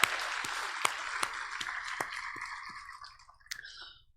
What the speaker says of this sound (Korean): 우리 찬양대 격려의 박수 한번 부탁합니다